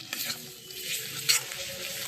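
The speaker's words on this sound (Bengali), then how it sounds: "সব একসঙ্গে ভালো করে ভাজা ভাজা করে নেব, যাতে করে আদা রসুনের গন্ধটা না ছাড়ে।" Ginger garlic paste frying in hot oil in a pan, stirred with a spoon; a continuous close sizzle with a few sharp scraping knocks.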